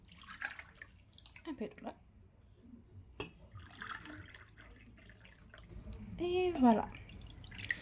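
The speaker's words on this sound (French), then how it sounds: "on a besoin d'eau dans les premiers verres" Water is poured from a tap or jug into drinking glasses, a short splashing pour near the end that rises in pitch as the glass fills, preceded by quieter trickles and scattered speech in French.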